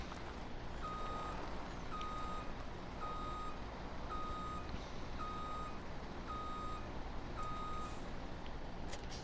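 A truck's reversing alarm from Farming Simulator 17 beeps in an even, regular rhythm about once every half second for several seconds over a steady engine rumble, with no talk.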